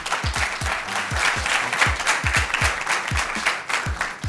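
A game-show studio audience gives a round of applause, with close, distinct hand claps in an uneven rhythm over a bed of fainter clapping.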